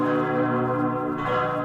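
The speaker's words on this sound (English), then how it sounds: "on Christmas Eve the church bells peal through the clear December air, calling the people to a special Christmas Mass" Church bells pealing on Christmas Eve in Italy, a steady rich ringing with sustained overlapping tones, loud and continuous throughout.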